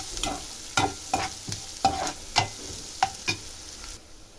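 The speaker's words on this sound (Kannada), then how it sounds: "ಚೆನ್ನಾಗಿ ಈರುಳ್ಳಿ ಫ್ರೈ ಮಾಡ್ಕೋಬೇಕು" Onions fry in a pan for beetroot palya, a soft continuous sizzle broken by repeated scraping stirs about every half second, close and fairly loud.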